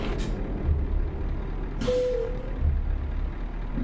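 A heavy truck's air brakes give a sharp hissing burst over a low, steady engine drone, with a short tonal squeal at a toll plaza in Euro Truck Simulator 2.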